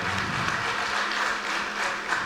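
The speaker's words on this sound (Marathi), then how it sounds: "जोरात टाळ्या बाजून आपण त्यांचं स्वागत करूया" A hall audience at a literary gathering claps together in a dense, steady wash of applause, fairly distant and sustained with no voices over it.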